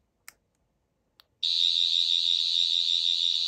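A 13th Doctor sonic screwdriver replica by Rubbertoe Replicas, two faint clicks, then a loud, steady high-pitched electronic buzzing whine that starts abruptly and holds without a break, close by.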